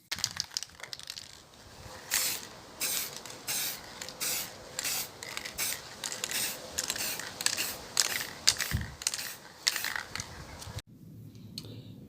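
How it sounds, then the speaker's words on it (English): An aerosol can sprays wood finish over a wooden spanner plaque in steady hissing bursts, loud and close, with short gaps between passes and a brief quiet stretch near the end. "So I'll literally just spray all this"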